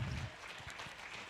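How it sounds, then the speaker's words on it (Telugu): Quiet, steady applause from an audience at a doctorate honouring ceremony, welcoming a visiting research university vice chancellor; dense, even clapping fills the short stretch without anyone speaking. "చప్పట్లతో అందరూ ఆహ్వానం పలుకుదాం"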